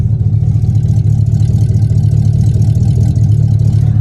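A rusty project station wagon's engine runs steadily with a deep, continuous low rumble and a slight rev, loud and close, with no voices.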